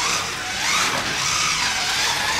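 A Scalextric Corvette C6R GT2 slot car runs on its track with a continuous high electric-motor whine that rises and falls as it takes the curves, close and fairly loud.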